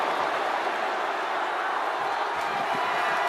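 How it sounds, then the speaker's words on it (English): A packed wrestling arena crowd in the WWE 2K25 video game roars as a steady, dense wall of noise, loud and unbroken throughout, with no distinct voices standing out. "you hear this capacity crowd following you on that journey"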